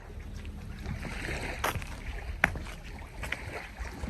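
A manually rowed boat on a quiet lake in Finland, with soft water sloshing and occasional knocks of oars against the hull under steady wind noise, fairly close.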